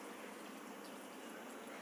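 Tamarind water being poured into a pan of sautéed eggplant for fried eggplant rice, a steady, soft, continuous pouring hiss with no talk.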